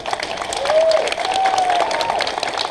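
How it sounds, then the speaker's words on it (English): A small crowd at a family-run store applauds the staff, close and fairly loud clapping mixed with light cheering, while a faint whistle-like tone drifts through the middle. "I want everybody to just give a round of applause to our staff."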